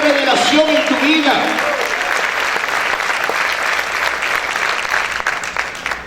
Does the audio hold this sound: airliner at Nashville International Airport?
no